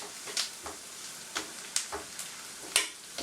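Onions and bacon frying in a pan, a quiet sizzle broken by soft intermittent crackles and pops spread across a few seconds.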